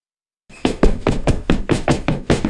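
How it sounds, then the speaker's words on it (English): Heavy footsteps pound up a flight of stairs, about ten thudding steps in a quick, uneven rhythm, loud and close, starting suddenly after a moment of silence. "Loud, heavy footsteps, slamming against the steps, getting closer and closer"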